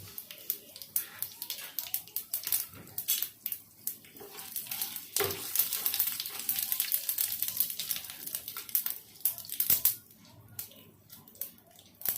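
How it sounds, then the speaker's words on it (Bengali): Bay leaf, dried red chillies and mustard seeds spluttering in hot oil for a fish tamarind sour dish, a steady close crackling sizzle with sharp pops and occasional louder bursts throughout. "তেলটা হালকা গরম হলে এর মধ্যে এবার আমরা তেজপাতা, শুকনো লঙ্কা আর সর্ষে ফোড়ন দিয়ে দেবো।"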